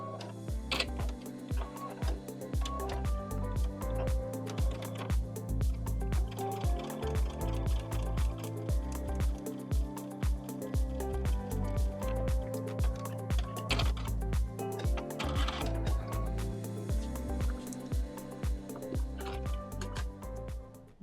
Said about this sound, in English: now I will sew the line here.